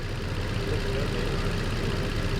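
A car engine idles steadily after its cooling system was burped and topped up with a gallon of antifreeze, a continuous low rumble close by with no talk over it.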